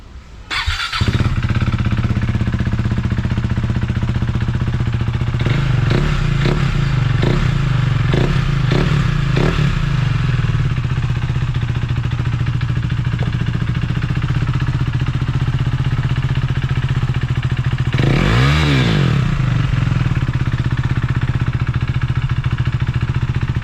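A KTM Duke 390 motorcycle fitted with an Akrapovic slip-on exhaust idles loudly and close. It gives a string of quick throttle blips partway through and another sharp rev near the end, with no one speaking.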